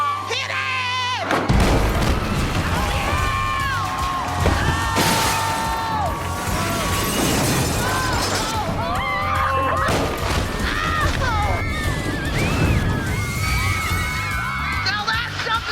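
A house being demolished on a home makeover show, with heavy crashes, thuds and smashing of breaking material repeating across the scene, while a crowd cheers and people shout over the din.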